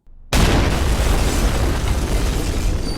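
A loud explosion from the action film Time to Hunt detonates abruptly after a brief quiet moment, then rolls on as a dense, sustained roar of blast and debris that fills the rest of the clip.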